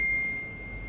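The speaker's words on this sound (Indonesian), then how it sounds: "bunyikan lonceng notifikasinya" A short bright bell-like ding of a notification sound effect rings out with a sustained clear tone over a faint low background, lasting under a second.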